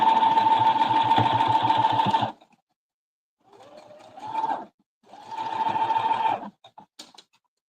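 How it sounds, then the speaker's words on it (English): A sewing machine stitching a patriotic quilt block runs in a steady whirring hum for about two seconds, then after a pause makes two more shorter stitching runs, close and loud, with no voices. "one more section to sew and I'll be done with the block"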